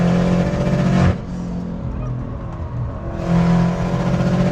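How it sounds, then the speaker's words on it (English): A tuned Subaru Impreza WRX with an open wastegate drives past, its engine roaring loudly and close. The roar eases off for about two seconds mid-way, then swells back to full volume. "Open wastegate, scaring all the little forest creatures away."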